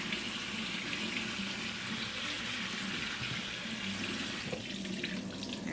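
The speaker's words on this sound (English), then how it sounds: "Gonna rinse these off again." Soaked blueberries are rinsed under a running kitchen tap, the water pouring in a loud, continuous splashing rush into the sink throughout, with a slight change in the spatter near the end.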